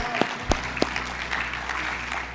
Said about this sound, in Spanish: Un aplauso para nuestro Señor.